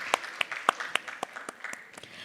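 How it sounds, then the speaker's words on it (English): Applause from the audience at a women in construction conference, a short burst of scattered, fairly faint hand claps at an uneven rhythm. "Please give them a huge round of applause"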